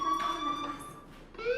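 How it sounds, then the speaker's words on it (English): Inside the video game Life Is Strange, a fire alarm sounds as a sustained, piercing electronic tone that wavers, briefly dips and then swells again, loud and close, with no talk over it. "Hey, do you hear that fire alarm?"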